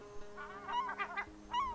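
Glaucous-winged gulls calling on Aiktak Island's Gull Mountain nesting colony, with a few harsh, rising cries in quick clusters followed by one more after a short pause, moderately close, no voices.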